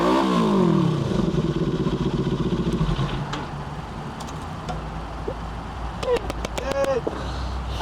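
A Volvo S60 engine revs hard and then winds down in a falling whine, giving way to a rough, quieter running rumble with scattered clatter and people talking.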